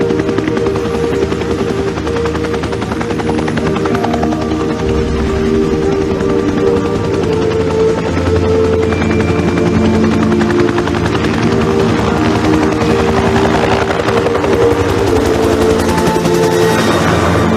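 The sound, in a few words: helicopter rotor blades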